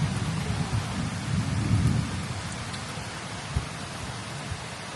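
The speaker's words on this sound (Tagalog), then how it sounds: "Malakas ang ulan. 3 araw straight ang ulan." Heavy rain pours steadily while low thunder rumbles, swelling early on, with a sharp crack near the end.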